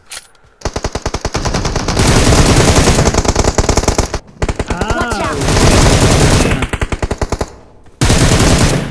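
Rapid, loud gunfire in PUBG Mobile, with an M24 rifle among the weapons, as sustained bursts of closely spaced shots broken by brief pauses, close and dominant throughout.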